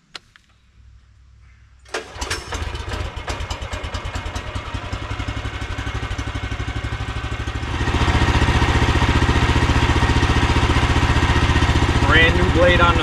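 A Wood-Mizer sawmill with a new SilverTip band blade cutting a big red oak log starts up after a quiet moment into a loud steady engine drone. The noise rises further as the blade bites into the wood, close and continuous.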